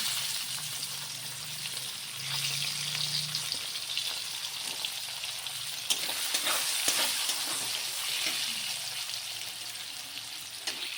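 Chopped onion frying in hot oil in a pan for dal tarka, a steady close sizzle holding throughout, with a few soft stirring knocks partway through.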